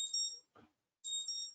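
An electronic alarm rings in two loud bursts of steady high-pitched beeping, broken by a short pause with a faint low thud, and no one talks over it.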